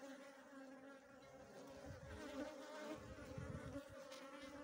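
Honey bees swarm at a hive during the flowering of umbu, jurema and braúna trees, a dense, steady, close buzz with a droning hum that swells and fades slightly throughout.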